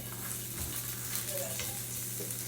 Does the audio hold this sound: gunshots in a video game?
no